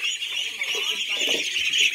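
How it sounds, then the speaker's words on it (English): Ducks call outdoors on a farm in Sta. Cruz, Barcelona, Sorsogon, with faint, scattered quacks under a steady high insect-like drone and background noise. "Duck!"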